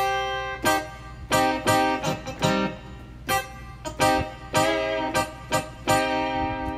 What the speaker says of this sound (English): before I got to do the clean funk guitar.